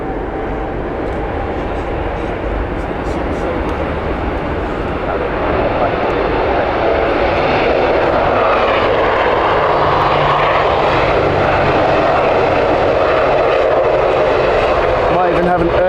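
A Loganair airliner on the Isle of Man service passes at Heathrow Airport with a loud, steady engine roar that swells slightly and holds throughout, while someone talks over it.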